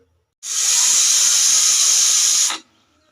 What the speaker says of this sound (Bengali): আমি দ্রুত রান্নার জন্য প্রেসার কুকার বসিয়ে দিলাম।